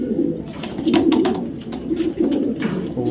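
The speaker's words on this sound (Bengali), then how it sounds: "বিআরপিএল ক্লাবের 2020-এর একটা নর কবুতর" A red checker racing pigeon, a 2020 male from a racing club, coos in low repeated rolling phrases close by, with faint rustling and clicks around it.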